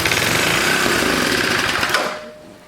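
A 1970 Hahn rototiller engine catches: a loud, fast, chattering run close by for about two seconds before it sputters out and dies away.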